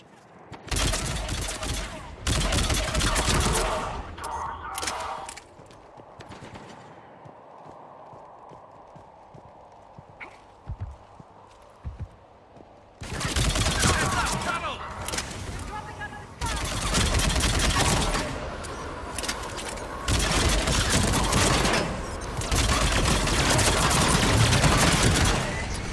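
A mounted gun in Mass Effect 3 fires heavy rapid bursts in long loud stretches, broken by a quieter pause, with battle noise throughout.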